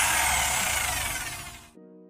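A loud power drill runs with continuous harsh whirring for almost two seconds, then cuts off abruptly and leaves a faint tonal hum.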